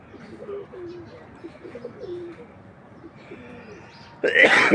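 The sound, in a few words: pigeons cooing on a rooftop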